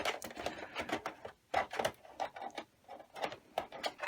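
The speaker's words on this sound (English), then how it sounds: "Remove the screws." A Torx T8 security screwdriver backs screws out of a PS4 Pro power supply, giving soft, quick clicking and scraping turns in a rapid irregular rhythm, close and faint, with no speech.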